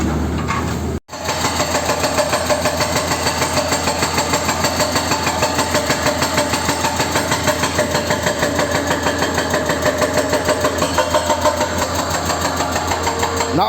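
A hydraulic breaker pounds rock at the opening of a tunnel, its rapid continuous hammering loud and echoing, running almost unbroken after a brief cut near the start.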